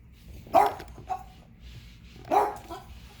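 A dog barks twice close by indoors, sharp single barks about two seconds apart with a small yip between, no talking.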